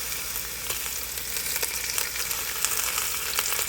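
Chicken drumsticks saute in olive oil inside an Instant Pot, a steady close sizzle and crackle with scattered sharper pops throughout.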